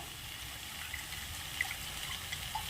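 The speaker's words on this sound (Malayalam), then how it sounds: "ഇനി നമുക്ക് ഈ മിക്സിയുടെ ജാറിലേക്ക് കുറച്ച് വെള്ളം ഒഴിച്ച് കൊടുത്തിട്ട് ഏകദേശം ഒരു കപ്പ് വെള്ളം ഒഴിച്ച് കൊടുത്തിട്ടുണ്ട്" About a cup of water pours steadily into a mixer grinder jar while roasted coconut masala is prepared for a Kerala-style chicken curry, a soft continuous trickle with a few faint clinks and drips.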